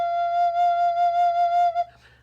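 A recorder sustains a single soft F for nearly two seconds, a pure, steady whistle-like tone with gentle wavering, close and alone before it stops.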